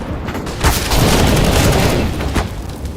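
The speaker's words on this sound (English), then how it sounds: "Flashbang out." A flashbang grenade goes off in CS:GO, a loud, dense boom with a crackling burst and short trailing blasts over about three seconds.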